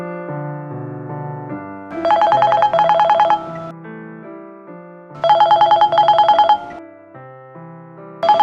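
A telephone ringtone plays in repeating cycles, a melodic run followed by a bright burst of rapid ringing, returning about every three seconds, loud and clear with no talk over it.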